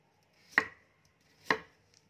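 Two sharp knife chops a second apart land on a cutting board as carrots and white radish are cut into chunks for a Vietnamese snake curry, close and clear against a quiet kitchen background.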